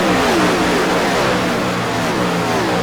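Stock car engine held at part throttle in the NASCAR Gen 4 racing game at Atlanta Motor Speedway, a loud, steady droning roar with a slowly shifting pitch and other cars close around.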